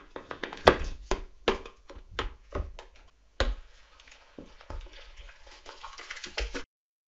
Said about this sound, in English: Wooden table tapping followed by water pouring.